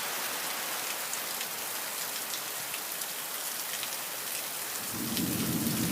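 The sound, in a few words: thunderstorm with rain and thunder in Florida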